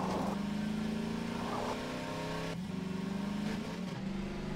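Rickety buggy engine in Half-Life 2 droning steadily while driving at speed, with pitch shifts as gears change, continuous and close.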